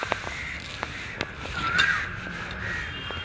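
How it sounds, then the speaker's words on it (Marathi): Crows cawing at dusk as birds head home, a few short calls sounding faint and distant over a quiet outdoor background. "पक्षी सगळे घराकडे परतायला लागलेले आहेत."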